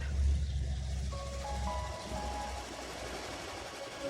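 An ice cream truck goes by on a summer street, its engine rumbling low at first and then fading as a tinkling jingle melody plays over it at moderate distance.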